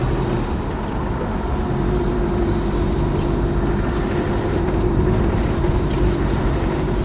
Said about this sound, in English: it seems to just trundle along really quite happily, pulling well in fifth gear here